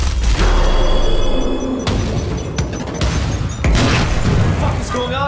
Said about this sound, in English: Oh, he was throwing a grenade.